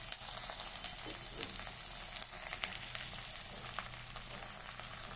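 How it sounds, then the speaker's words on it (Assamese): Semolina toasts in a pan with curry leaves, giving a soft, continuous sizzle with a few light crackles and stirring scrapes, quiet and close. "চুজিখিনি অলপ ভাজি লৈ তাতে নিমখ অলপ দি, তাতে পানী অলপ দি"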